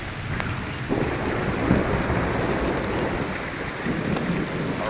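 Steady, loud rain pours down through a thunderstorm, a dense hiss with low rumbling underneath, swelling briefly as distant thunder rolls in the background; no one speaks.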